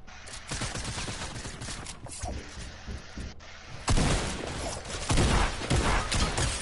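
Gunfire in a shooter video game: dense, rapid volleys of shots crackle steadily, then swell louder and harsher about halfway through as the bursts intensify.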